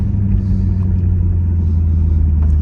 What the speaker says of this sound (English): burbles, little burbles